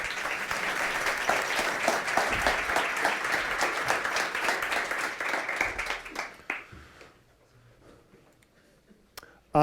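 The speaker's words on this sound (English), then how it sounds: "Let's give them all a round of applause" A round of applause from a hackathon audience in Stockholm, steady dense clapping for about six seconds that then stops abruptly into near silence with faint room sounds.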